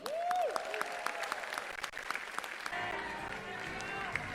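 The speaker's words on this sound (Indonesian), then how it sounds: "Tepuk tangan yang meriah untuk semua pimpinan kita yang baru" A crowd at an Indonesian political party event applauds new party leaders, fairly faint and distant clapping mixed with room noise and some voices, shifting in tone partway through.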